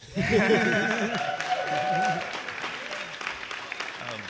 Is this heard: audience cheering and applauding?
yes